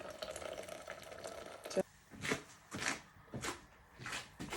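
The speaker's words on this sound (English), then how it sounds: "So you're now going to pour your hot water into your pan with your penne pasta." Hot water pours into a pan of penne pasta, a steady splashing stream for nearly two seconds that ends abruptly, followed by several louder broadband swishes and clatters.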